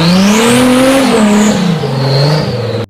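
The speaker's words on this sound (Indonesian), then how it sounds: "yang ini mobil off-road." A toy off-road car gives a loud, continuous revving engine whine that rises and falls in pitch for about three seconds before cutting off abruptly.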